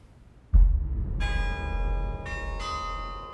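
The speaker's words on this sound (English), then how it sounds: "The bells of St. Giles's are said to have rung out with the tune" Church bells of St Giles ring out: a deep thump, then a bright bell strike that sustains, followed by a second strike a second later, loud and close with nothing else over them.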